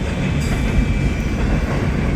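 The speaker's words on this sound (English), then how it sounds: "You can hear the end of train device whining." A passing freight train's end-of-train device whines with a thin high tone above the heavy rumble and clatter of rail cars rolling by close and loud, with no talking.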